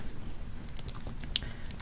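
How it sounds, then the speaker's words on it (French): Stormy rain patters steadily with faint crackling pops scattered throughout, a soft continuous background bed at low, even loudness. "C'est une pluie orageuse avec un peu qui crépite."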